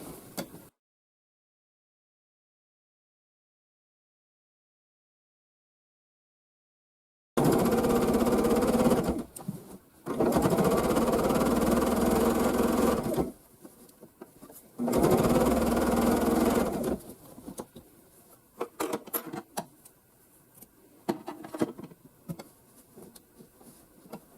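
A sewing machine stitches a label onto the edge of a quilt in bursts of steady whirring, a few seconds each with short pauses between, then lighter clatter at the end; an opening stretch is silent.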